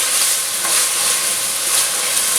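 Softened potatoes sautéing in a pan over medium heat, a constant bright hissing sizzle, loud and close, without speech.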